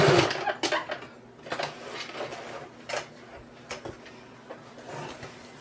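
A sewing machine back stitching on a wheelchair tote bag, heard as short irregular bursts of mechanical whirring and clicking with brief pauses between them, fairly close and alone.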